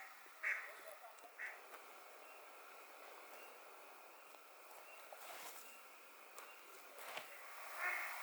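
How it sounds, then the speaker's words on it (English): Ducks quacking beside a lake in the Eastern Sierra wilderness, a few short nasal calls at a moderate distance rising above steady outdoor background hiss, with one louder burst near the end. "there are some noisy ducks. You hear that?"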